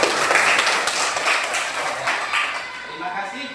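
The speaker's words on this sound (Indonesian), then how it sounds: "tepuk tangan untuk Fatia" A classroom of children claps for a classmate, a quick burst of fairly loud rhythmic clapping that fades out, with a voice speaking at the end.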